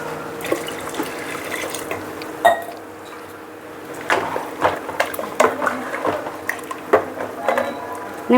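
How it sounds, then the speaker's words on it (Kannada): Water is poured into ground masala in a home kitchen, with splashy liquid sounds and intermittent clinks and knocks of utensils and dishes, fairly close and with no talking. "ಅಷ್ಟೊತ್ತಲ್ಲಿ ನಾನು ಈ ಮಸಾಲೆಗೆ ಸ್ವಲ್ಪ ನೀರು ಹಾಕೋಣ"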